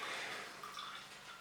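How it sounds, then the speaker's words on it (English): Water trickles and drips from a radiator being drained, a soft continuous splashing run of liquid, close but quiet, lasting a brief moment with no voices. "then let the water drip out to the bottom of the radiator."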